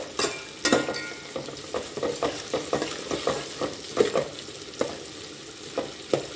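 Mint rice ingredients for pudina rice are fried and stirred in a pan. A steady sizzle runs under repeated scraping strokes of a spoon against the pan, irregular and close, with no talking.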